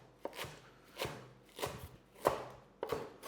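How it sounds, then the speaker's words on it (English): A knife chops finely through herb stems on a cutting board while pulled pork is being prepared, giving five crisp, evenly spaced chops, close and fairly quiet, with no talking. "So this, we give a very fine chop."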